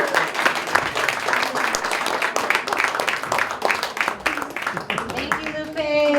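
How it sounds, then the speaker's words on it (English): Audience applause at an open mic night for poets, storytellers and dancers, steady dense clapping that carries through the whole stretch and ends as it thins out, with voices mixed in. "Let's give a round of applause for all the poets and storytellers who came up and dancers"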